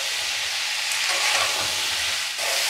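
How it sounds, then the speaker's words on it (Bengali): Papaya pieces and spices sautéing in a pan for a Bengali papaya curry give a steady, close sizzle with soft stirring scrapes, loud and continuous with no talking. "এই মশলাগুলো দেওয়ার পরে আবার সাঁতলাতে হবে, একটু সাঁতলিয়ে ভাজা ভাজা করে নেবো।"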